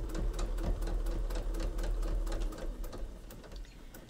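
A sewing machine stitches a seam while piecing a sewing machine mat, a fast, even mechanical chatter running throughout at moderate loudness before easing slightly at the end.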